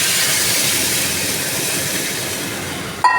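Water poured into a cooking pot, a steady loud rushing hiss lasting several seconds before ending with a sharp clink at the close.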